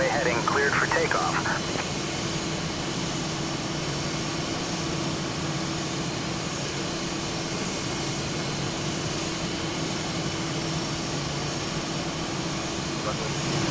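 Boeing 777-300ER taking off in a flight simulator game, a steady, dense jet engine roar holding constant throughout under a brief bit of radio chatter at the start.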